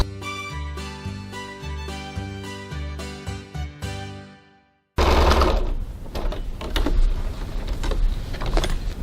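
A sewing machine bastes the edges of a Genevieve fabric bag together. After a few seconds of tonal notes and a short gap, it whirs in a steady, close, continuous run of stitching.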